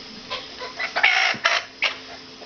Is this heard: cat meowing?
no